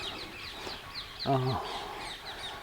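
Birds calling outdoors on a heavily fogged morning: faint, repeated high chirps through the whole stretch, with one louder, lower, harmonic-rich call near the middle, set against quiet background noise.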